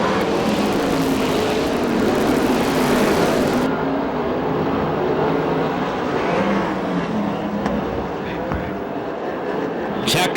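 USAC National and CRA sprint cars roar around the Perris oval on the final lap, a dense loud engine drone that swells as the pack passes and then recedes, with an announcer talking over the noise.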